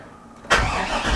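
A Chevy/GMC OBS pickup engine, freshly fitted with a replacement wiring harness, cranks and catches abruptly after a short quiet lead-in, then runs with a loud, steady, close roar.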